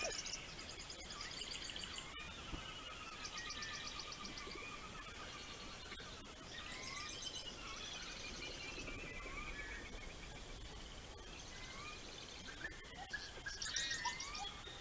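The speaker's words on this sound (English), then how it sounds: "So just give a quick little listen at about 30 seconds here of this wetland recording." Night-time wetland chorus of birds calling, with repeated chirps and trills at moderate distance over a faint steady background hum, calls overlapping throughout.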